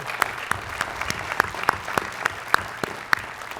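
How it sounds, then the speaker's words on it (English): Graduates at an undergraduate commencement ceremony applaud in a round of clapping, heard as a run of crisp, evenly spaced claps over a soft crowd wash, without talk. "Give yourselves a round of applause for graduation day"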